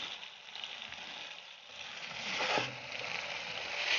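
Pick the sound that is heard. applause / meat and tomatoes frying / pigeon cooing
meat and tomatoes frying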